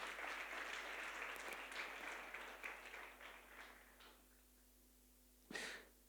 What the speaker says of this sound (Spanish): ¿Les damos un aplauso a los dos?